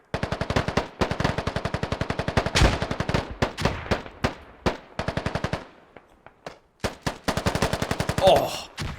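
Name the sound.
PPSh submachine gun fire in video game Squad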